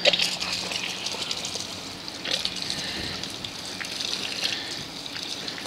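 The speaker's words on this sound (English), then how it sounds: "And then we'll rinse." Water rinses the foam off a dirt bike in a steady close gush and spray. It carries on without a break, with slight shifts as the stream moves across the bike.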